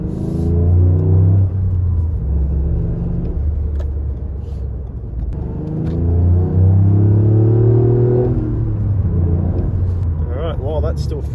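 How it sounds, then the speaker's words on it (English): A Toyota GR Yaris with a turbo-back bi-modal exhaust rumbles deeply and revs up and down, the exhaust note swelling and easing, close by and loud, with a voice talking over it. "a lot of people are requesting attempted sound clips for the exhaust"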